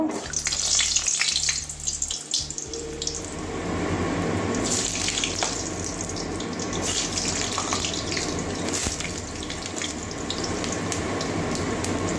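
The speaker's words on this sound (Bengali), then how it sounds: "তেল গরম হয়ে গেছে, এবারে আলু কটা ভেজে নেব" Potato pieces fry in hot oil, settling into a steady, close, continuous sizzle after a few seconds of quieter rumbling at the start.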